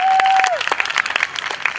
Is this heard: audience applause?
yes